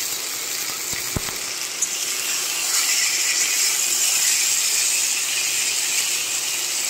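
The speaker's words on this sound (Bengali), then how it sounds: "এই যে কষানো হচ্ছে" Masala sizzling steadily as it is sautéed in a pan, a continuous hissing fry with a couple of brief clinks of a spoon against the pan near the start.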